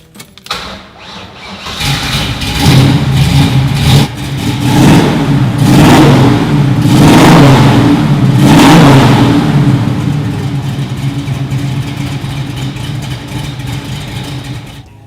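A 1970 Chevrolet Nova SS396 with a 375-horsepower 396 and 4-speed cranks and fires up, then revs loudly in several blips before settling into a rumbling idle, close by.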